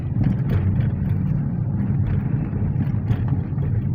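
A Toyota Vios gen 4 car driving, a steady loud road and engine rumble with faint irregular knocks that may be a rattle from the rear; no clear distinct rattle stands out.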